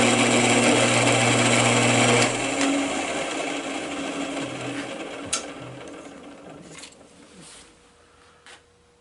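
A power drill whines loudly for about two seconds boring a hole in wood, then winds down and fades, followed by faint scraping and a couple of small knocks.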